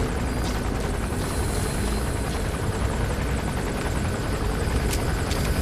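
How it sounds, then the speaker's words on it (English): A steady, loud helicopter rotor drone in Metal Gear Solid V: The Phantom Pain fills the whole stretch, a continuous chopping rumble with no voices over it. "I almost always get caught by the helicopter"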